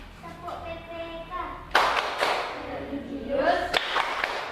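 Schoolchildren in an Indonesian classroom perform a rhythmic group clapping chant, with a sung voice leading before sharp claps in patterned bursts, moderately close.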